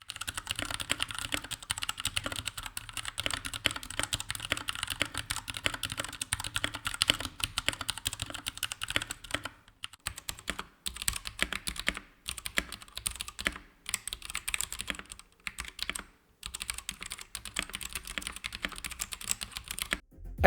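Rapid, close clacking of Royal Kludge mechanical keyboard keys, typed in a steady stream that turns choppier with short pauses in the second half.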